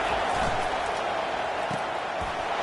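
A stadium crowd in a college football video game roars steadily on third down, a dense continuous wall of cheering with a few dull thumps, and no clear speech.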